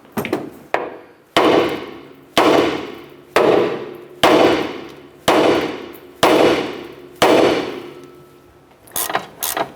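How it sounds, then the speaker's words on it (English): A hammer strikes a steel steering knuckle on a 2008-2012 Honda Accord to free the upper ball joint: about nine loud, ringing metallic blows spaced roughly a second apart, each with a short decaying clang. "Now we're going to go ahead and strike our knuckle"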